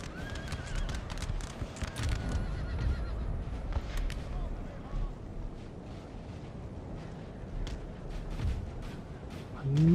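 Cavalry horses in a Napoleonic battle in Napoleon Total War, with horse guards engaging: neighs and whinnies with scattered hoofbeats over a dense wash of battlefield noise and distant booms, with a faint voice underneath.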